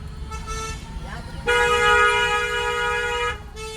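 A car horn sounds in a sustained blast of about two seconds, preceded by a short toot, with engine rumble underneath.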